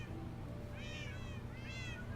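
Two high, wavering cat meows from Minecraft cats, clear over a steady low rumble, spaced about a second apart.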